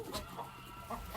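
Hen wearing a chicken saddle on a farm, clucking softly in a few brief, quiet bursts against low background noise.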